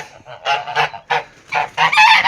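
Domestic geese near their nests, honking in a series of loud, close, nasal calls, several in quick succession and overlapping toward the end.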